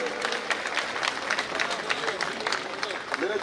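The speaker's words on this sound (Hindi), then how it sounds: "तालियां बजा के सभी स्वागत करके" A crowd at a street-market campaign gathering for a Lok Sabha candidate claps to welcome guests, with steady, dense applause and crowd noise while a voice talks over it.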